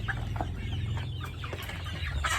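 Several chickens on a farm of about 100 birds cluck softly and steadily against a constant low background hum, with occasional brighter calls rising above the murmur.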